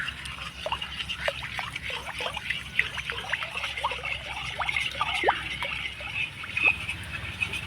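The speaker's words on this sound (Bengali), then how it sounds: "খুব ভালো করে কিন্তু মিশিয়ে নিতে হবে।" Sour yogurt being stirred into warm liquid in a bowl to make sweet yogurt, a steady wet sloshing and trickling with soft clinks throughout, fairly close and continuous, with no talk.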